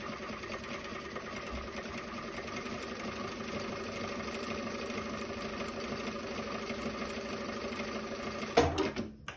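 A JUKI DDL-900C sewing machine stitches a programmed pattern stitch with a steady, close mechanical whir that runs unbroken for most of the stretch, then ends in a brief louder clunk.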